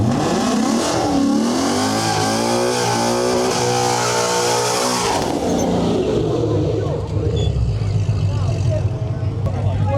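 A nitrous-equipped Ford Mustang and a Jeep Rubicon on BFG all-terrain tires revving at a drag strip with a sketchy surface, the engine roar loud and rising in pitch, then dropping into a lower rumble, with voices over it.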